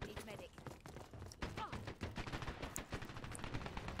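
Rapid suppressing gunfire from the shooter game Dirty Bomb, a dense run of overlapping shots and thuds filling the whole span at steady volume, with a voice talking over it.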